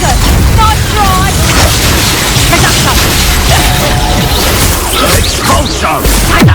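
Confringo fire spell explosions in Hogwarts Legacy combat, dense booming blasts and crashes layered with game effects and voices, loud and continuous throughout.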